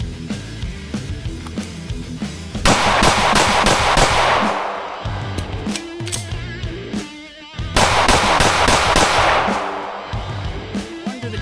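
Rapid strings of pistol shots from a Staccato C2 during a speed drill at 5 yards, two loud bursts of quick, sharp reports with echoing decay, separated by quieter mechanical handling.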